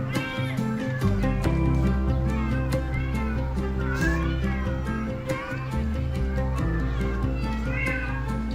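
Cats in Malta meow in overlapping, drawn-out cries throughout, loud and close, over a steady low hum.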